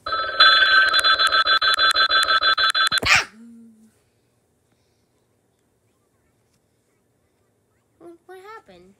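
Cartoon phone ringing in the Talking Tom video game, a loud electronic ring repeating in quick bursts for about three seconds before it stops abruptly, then silence and a short burst of chirpy character babble.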